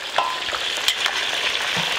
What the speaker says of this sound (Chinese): 油温六成下锅